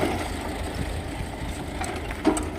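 A T-25 or YuMZ-6 tractor engine idles quietly, a steady low rumble with a soft mechanical hum, continuous and fairly faint, with no talking.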